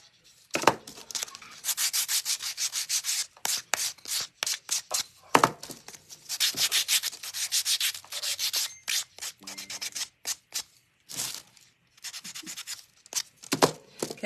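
Wooden letter blocks being sanded by hand in short, soft rubbing strokes that come in an irregular rhythm, heard close and alone.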